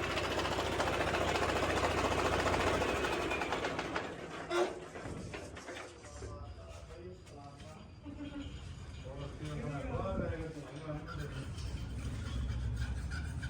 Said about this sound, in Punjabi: ਬਾਕੀ ਤੁਹਾਨੂੰ ਸਾਊਂਡ ਚੈੱਕ ਕਰਾਤੀ ਟਰੈਕਟਰ ਦੀ